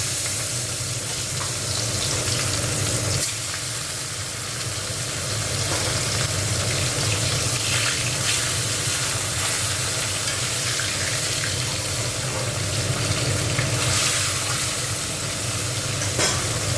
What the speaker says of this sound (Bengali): তেলটা গরম হয়ে গেছে, মাছগুলো দিয়ে দিচ্ছি।